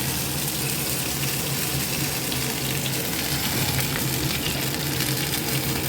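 Pointed gourd (potol) pieces frying in hot oil in a pan, a steady, dense sizzle with a low hum underneath, continuous and fairly close with no speech.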